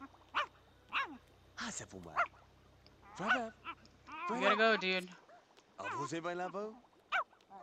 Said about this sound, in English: That's just the regular dog.